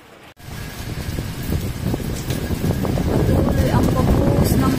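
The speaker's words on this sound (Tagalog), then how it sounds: "Patuloy ang pagbuhos ng ulan na malakas. Ayan na guys. Lakas ng hangin, malakas din yung ulan." Heavy rain pours steadily with strong gusting wind roaring against the microphone, a dense, rising wash of noise that grows louder and fuller over several seconds.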